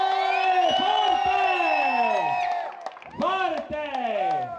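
A crowd at a festa celebrating the installation of mayor Rosario Caruso in Serrara Fontana cheers and whoops loudly in long rising and falling shouts, with a voice calling out over them.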